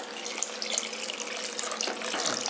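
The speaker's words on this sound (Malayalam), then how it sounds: "അപ്പം നമുക്ക് ഇനി ആവശ്യത്തിനുള്ള വെള്ളം അങ്ങോട്ട് ചേർത്ത് കൊടുക്കാം" Water poured into a pan of Kerala-style sardine curry, a steady close splashing stream running for a couple of seconds without speech.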